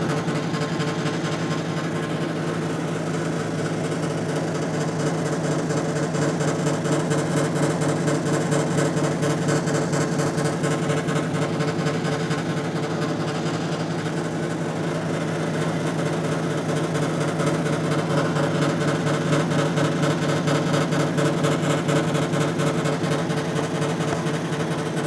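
A lapidary grinding wheel working a Brazilian agate end piece, a steady motor hum with a continuous gritty whir of stone against the wheel, close and even throughout with no talking.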